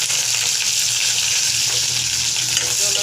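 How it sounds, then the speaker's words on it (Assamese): Green chillies and onion fry in mustard oil in a wok for an Assamese lentil dish, giving a steady, close, continuous sizzle with no voices over it. "জলকীয়া আৰু পিঁয়াজখিনি ভালকৈ ভাজি ল'ম"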